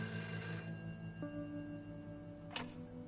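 Telephone ringing during a prison phone call in the video game A Way Out, with sustained electronic tones over a steady background and a brief bright burst near the end, no talking.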